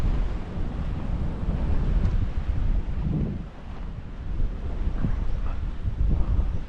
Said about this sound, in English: I think this is from the waterfall coming down, going down over the railway lines there